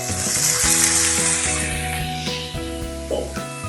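Chicken goes back into a hot pan with ginger, garlic and onion for a green-paste chicken curry, giving a loud, steady sizzle and hiss with clinks and stirring knocks near the pan.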